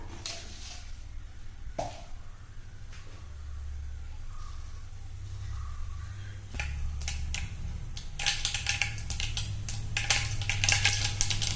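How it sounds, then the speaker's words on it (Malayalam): Mustard seeds spluttering in heated oil in a pan, starting with scattered clicks over a low hum and building into dense, rapid crackling pops toward the end. "അപ്പോൾ കടുക് പൊട്ടിയിട്ടുണ്ട്."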